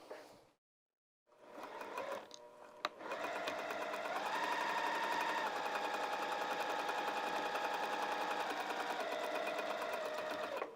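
A sewing machine stitches along the curved seat seam of lounge pants, starting after a short pause and then running in a fast, steady mechanical chatter, close and fairly loud, with no talking.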